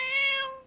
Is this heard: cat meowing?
yes